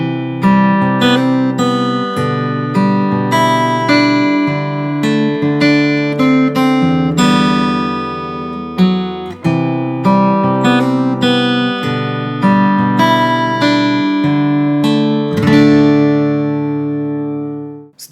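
Fingerstyle acoustic guitar plays the pre-chorus of a song from Kpop Demon Hunters, with picked melody over bass notes and chords, close and bright, continuous for about eighteen seconds before ringing out, with no talk.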